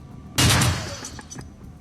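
Gunfire in the Shadowrun: Dragonfall Director's Cut video game: a sudden loud burst of shots that rings out and decays over about half a second, leaving faint background ambience.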